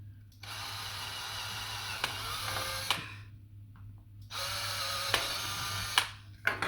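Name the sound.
drilling holes in PS5 DualSense controller shell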